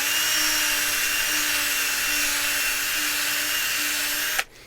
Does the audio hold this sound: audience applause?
no